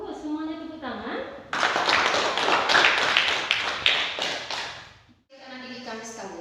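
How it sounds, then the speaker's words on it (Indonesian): Students in an Indonesian classroom lesson clap their hands together in a dense, loud burst of about three and a half seconds, framed by a teacher's voice talking just before and after. "Bagus, semuanya tepuk tangan."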